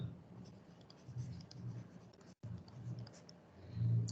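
Chalk or a marker scratches across a classroom board during a units and measurement lecture, producing steady strokes close by with one brief pause partway through.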